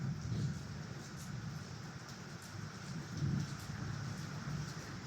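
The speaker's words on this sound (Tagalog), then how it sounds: "Oh, grabe yung ulan." Heavy rain pours steadily, a dense continuous hiss with low rumbling swells that could be distant thunder, and no voices.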